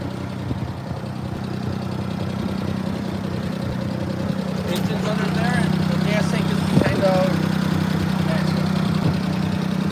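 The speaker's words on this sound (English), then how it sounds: "Wow, the engine's right here." A truck engine idles steadily in a low rumbling drone, loud and close throughout, with voices talking over it and a few brief knocks near the end.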